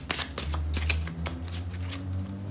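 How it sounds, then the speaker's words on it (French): Tarot cards riffle and slide against each other during a close, steady shuffle, a dense run of crisp flicks and soft slaps lasting a few seconds, with no talk over it. "Je vais tirer une carte romantique quand même."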